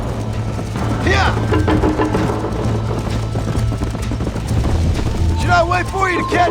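Horse hooves clip-clopping at a steady gallop in Red Dead Redemption, with a rider's spoken voice over the continuous rhythmic beats and some wind rushing.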